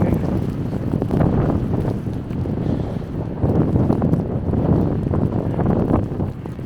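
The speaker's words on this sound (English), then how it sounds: "And with all the wind, you probably can't even hear me." Strong wind roaring and buffeting the microphone during a New York City snow storm, a loud continuous rumble with gusts swelling and easing.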